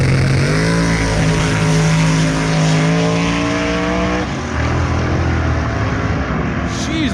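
A BMW drag racing down the strip roars loudly nearby, its engine climbing in pitch through a gear, shifting, then pulling away, with faint crowd chatter underneath.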